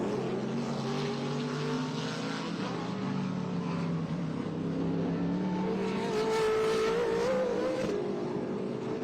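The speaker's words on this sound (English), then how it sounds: "You can actually hear the engines and where they hit these bumps." Trans Am race car engines droning and revving in the distance at Sebring, pitch rising and falling as cars pass over bumps, with a steady roar throughout.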